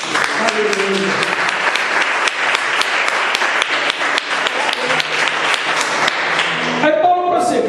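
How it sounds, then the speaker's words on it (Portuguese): A church congregation breaks into sustained, loud applause that fills the hall, dense rapid clapping lasting several seconds, with a voice calling out at the start and a voice rising at the end. "Você pode dar uma salva de palmas a Jesus?"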